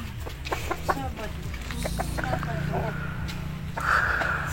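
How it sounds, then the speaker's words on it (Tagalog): A chicken clucks close by in short, rapid bursts, with a higher squawk near the end, while a voice speaks over it in a rural yard. "ang ganda ng manok na to"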